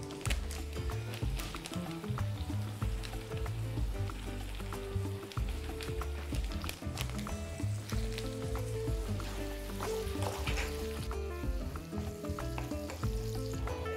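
Onions fry in a pan, giving a soft, steady sizzle and crackle with occasional stirring clinks, fairly quiet throughout.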